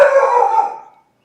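A dog lets out a single loud, close howling bark that holds for about a second and then trails off into silence.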